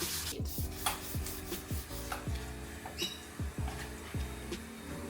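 A Lexus IS200 headlight lens being hand-sanded in one direction with light pressure, heard as steady, close, rhythmic rasping strokes repeating about twice a second, with no talk.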